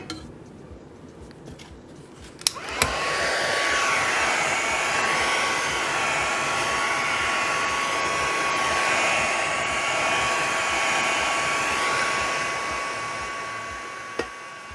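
A hair dryer switches on with a click and roars steadily at close range, blowing on a galvanized-tin paint effect for about twelve seconds before clicking off, with a faint clink near the start.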